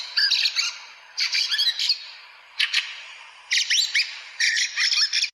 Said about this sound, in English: So you said that was a song thrush, but it's actually a field fare.